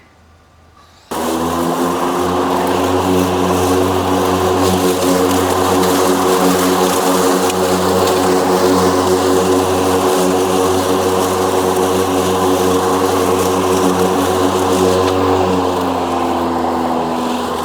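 Toro 60V Super Recycler battery lawn mower starts up and runs at max setting with a loud, steady whirring drone of motor and blade, heard close and alone for most of the clip.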